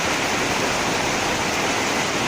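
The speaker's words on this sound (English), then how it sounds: "it started pouring rain" Heavy rain pours down in a constant, dense roar of hiss and splatter, loud and close, with no voices.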